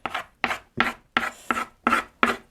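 Homemade slime made without glue, foam or borax is kneaded by hand, giving seven evenly spaced wet, sticky squelching pulls close up, with no talking.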